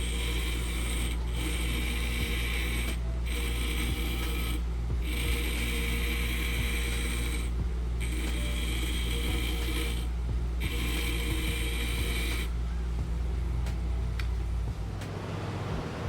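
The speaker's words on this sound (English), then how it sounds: "Can't TIG weld without sharpening your tungsten" A short TIG welding tungsten electrode is held against a bench grinder and ground to a point, with a steady motor hum underneath and a grinding rasp that cuts in and out in repeated short passes.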